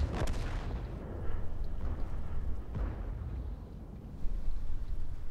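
A tank cannon firing in the video game World of Tanks: a sharp heavy boom at the start, then deeper booming shots rolling out over a low continuous engine rumble, with no talk.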